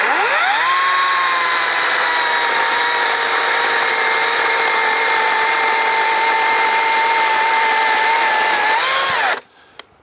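A Greenworks 24-volt battery chainsaw revs up and runs at a steady, loud, high electric whine for about nine seconds, then spins down and cuts off abruptly.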